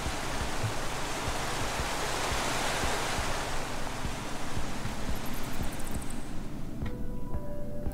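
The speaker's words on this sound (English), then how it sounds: "Waterfall." A waterfall in the video game Minecraft Story Mode gives a continuous, even rushing roar at moderate-low level. Faint tonal game sounds enter near the end.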